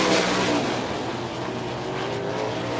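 Sprint race cars roar around the oval at Humberstone Speedway during an eight-lap qualifying heat, a loud, steady engine drone that fills the whole stretch without letup.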